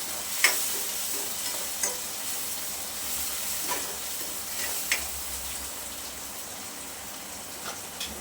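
Chopped tomatoes frying in oil for a chana rassa curry, a steady broadband sizzle with a few sharp spatters and occasional stirring clicks, close and moderately loud, no talking.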